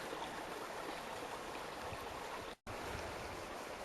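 A waterfall in the Zion desert gives a steady, broad rush of falling water, heard from a distance and unbroken except for a brief dropout; no talking.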